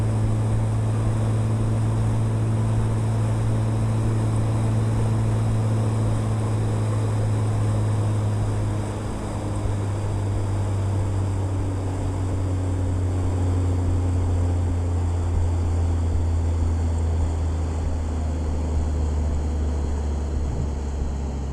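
Propeller aircraft engine in the Aerofly FS 4 flight simulator, a loud continuous drone with a low tone that drops slightly in pitch partway through, steady and close for the whole stretch without voices.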